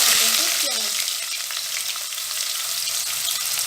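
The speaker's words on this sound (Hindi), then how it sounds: "तब तक हम प्याज को फ्राई कर लेते हैं।" Onions sizzling loudly in hot oil in a pan, a dense, steady hiss right up close that starts strongest and settles slightly.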